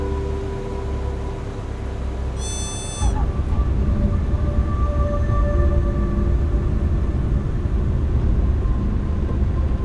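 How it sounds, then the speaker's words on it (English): A Cessna 172's engine idles on landing approach in the X-Plane 12 flight simulator, a steady low drone that fills the clip, with a brief beeping chime near the start. "I'll go full flaps and I'll go with throttle off, throttle idle. Let it come down."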